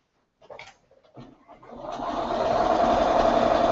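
A Bernina sewing machine stitching a quilt square follows a few light handling clicks and then hums up into a steady, close, continuous whir.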